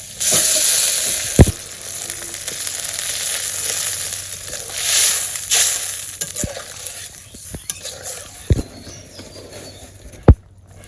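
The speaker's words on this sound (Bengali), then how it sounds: "সিদ্ধ আলু জল দিয়ে দিই" Boiled potatoes meeting added water in a hot pan give a steady frying sizzle that runs throughout, with a few sharp clattering knocks at intervals, no talking.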